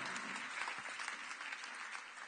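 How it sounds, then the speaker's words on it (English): Panel discussion audience in a hall gives a short burst of steady applause, fairly even and moderately distant, with no talking over it. "You got an applause for that."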